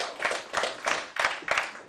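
Scattered audience members clap in a few loose bursts at a comedy show, the claps sparse and uneven rather than a full ovation, with no talking over them.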